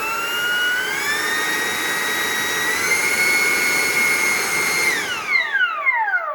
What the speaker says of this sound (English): Here I have this air gun.